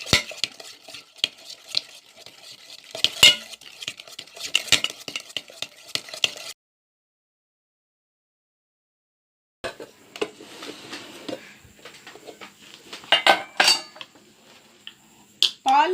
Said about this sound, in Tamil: இந்த ஐசிங் சுகரை இதில் போட்டுக்கிறோம். போட்டு நல்லா மிக்ஸ் பண்ணி எடுத்துக்க போகிறோம். இதை நல்லா பீட் பண்ணி எடுத்துப்போம்.